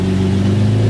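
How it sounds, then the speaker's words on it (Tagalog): A 2014 Toyota Vios engine idles with a steady low rumble and a faint hum above it, close by, with no voices. "Start niya pala yung kotse niya."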